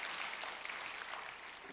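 Applause from a church congregation during a worship service, a steady wash of clapping held at an even level throughout, fairly faint with no voices.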